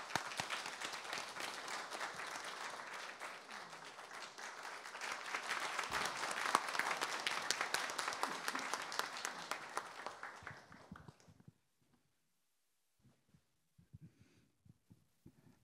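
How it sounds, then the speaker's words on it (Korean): An audience at a university honorary doctorate ceremony applauds, with steady dense clapping that swells for about ten seconds and then stops abruptly, leaving a few faint stray sounds. "뜨거운 박수로 맞아주시기 바랍니다"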